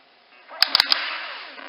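Gunfire from the NES video game Wild Gunman comes as four sharp, rapid synthetic shots within a fraction of a second over a sustained electronic game tone, loud and close.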